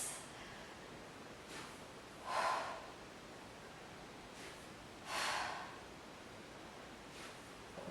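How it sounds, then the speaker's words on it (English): Two big, deep breaths are pushed out during a full-body workout, each a soft, airy rush a few seconds apart, faint and close against quiet background noise. "Big deep exhales."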